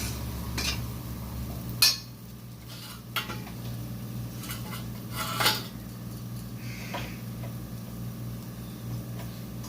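Tamarind extract stirred into fish curry in a pan, with a low steady hum beneath occasional clinks and scrapes of a utensil against the pan, a few sharper knocks standing out.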